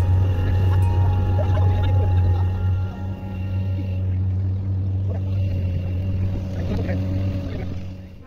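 A large motorboat's engine on the Padma River drones steadily with a low, constant hum, joined by faint higher whines and background rumble, no one speaking.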